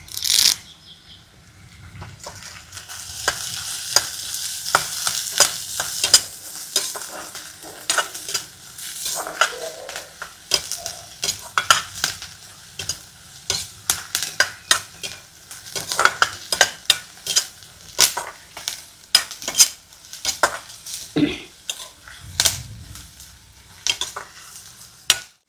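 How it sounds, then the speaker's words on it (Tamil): Onion, green chillies and curry leaves sautéing in a pan in a village kitchen, a sizzling bed under frequent rapid scraping and clattering stirs of a spoon against the pan, close and lively. "நல்லா வெங்காயம் பச்சை மிளகாலாம் நல்லா வதக்கியாச்சு."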